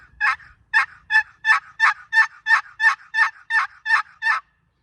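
A rapid run of about a dozen raspy, yelping clucks, evenly spaced and close, imitating a turkey call by scraping a wooden box call.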